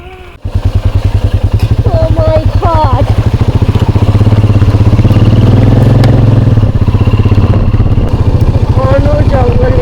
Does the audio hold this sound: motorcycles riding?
yes